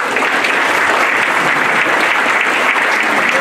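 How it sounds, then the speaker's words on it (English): A large audience at a school district's state-of-schools address claps steadily and loudly, a dense, even wash of applause filling the whole moment with no voices standing out. "So give yourself a round of applause."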